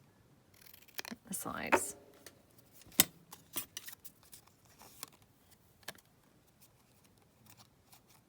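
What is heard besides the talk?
scissors cutting fabric topper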